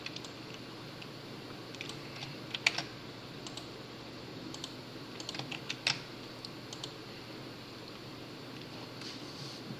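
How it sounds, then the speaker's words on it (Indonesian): Computer keyboard keys click in quick, irregular bursts as a command is typed for Python data cleaning, soft and close against a low steady hum, with no talking. "Kita ketikkan ini."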